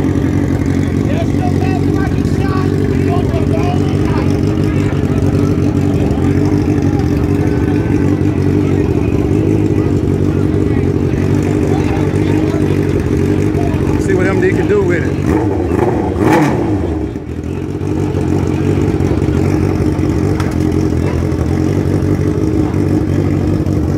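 A wheelie-barred motorcycle runs steadily with a low, rumbling engine drone that holds for the whole stretch, loud and close, with a brief dip and clatter partway through and voices mixed in underneath.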